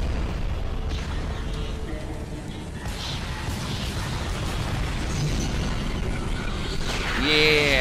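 Explosions in a Skibidi Toilet animation, a steady dense rumble of blasts and booms with clattering mechanical noise, loud throughout with a brighter burst near the end.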